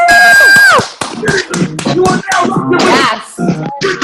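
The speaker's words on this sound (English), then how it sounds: "Round of applause for Jennifer" Scattered hand claps and taps come through a phone conference line, mixed with several voices talking over them, after a brief electronic tone at the start.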